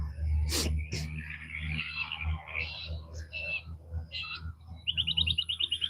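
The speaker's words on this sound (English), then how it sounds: "Listen at the birds." Birds chirp and tweet in short bright bursts, ending with a quick run of rapid chirps, mixed with some soft nearby voice and handling noises.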